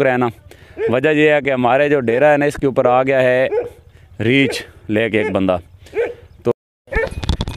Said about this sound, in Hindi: पीछे मेरे जो है ना कुत्ते भोंकने की आवाज़ें आपको आ रही होंगी